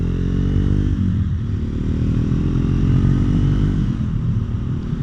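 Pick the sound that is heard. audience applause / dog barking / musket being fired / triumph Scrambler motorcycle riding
triumph Scrambler motorcycle riding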